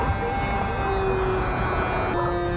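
An airplane drones steadily overhead, a continuous broad engine roar with a faint tonal hum holding level throughout.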